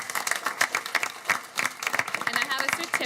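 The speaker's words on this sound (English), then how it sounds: "So let's give them a round of applause for that." Audience at a county school board meeting applauding a top-ranked school, dense steady clapping from a nearby crowd throughout, with a voice faintly present beneath.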